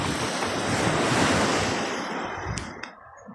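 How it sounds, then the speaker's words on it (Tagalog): Big ocean waves roar and wash in a broad surge in bad weather, swelling then fading, with wind buffeting the microphone and a couple of sharp knocks near the end. "itong mga malalaking alon"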